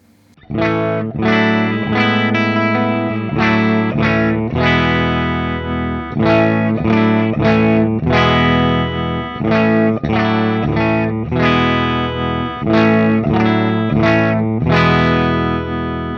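Heavily distorted electric guitar through a Marshall amp playing chunky chords and riffs, loud and continuous with short breaks between phrases.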